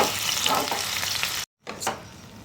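Chicken mince frying in a pan, a dense crackling sizzle with stirring scrapes that cuts out briefly, then resumes more faintly.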